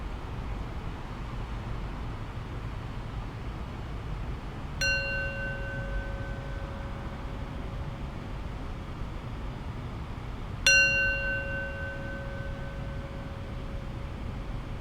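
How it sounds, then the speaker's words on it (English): A meditation bell rings clearly twice within the span, each strike sustaining a long, pure decaying tone over a quiet, hissy background with no talking. "As you listen, pay attention fully to the 3 rings of the bell."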